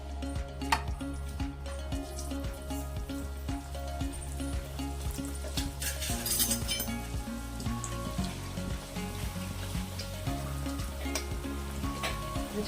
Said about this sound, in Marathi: आता हे गरम झालंय तर आपण ह्या मासवड्या तळून घेऊयात.